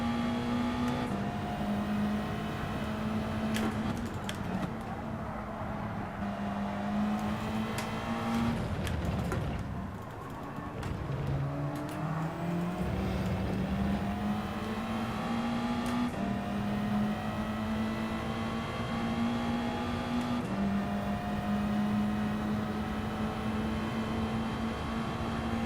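Race car engine in Gran Turismo 7, a sustained high revving drone with audible gear shifts that drop and climb the pitch repeatedly, steady and continuous with a brief lull midway, fairly quiet and without talk.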